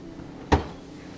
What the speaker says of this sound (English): good shutting the door